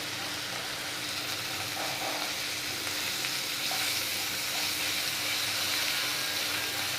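Garlic hits hot oil in a pan for a bean and potato stir-fry, giving a steady, soft, even sizzle that runs the whole time with no talk.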